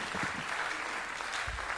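Audience applause at a live concert show, a steady, moderately loud wash of many hands clapping in a room, with faint low thumps under it.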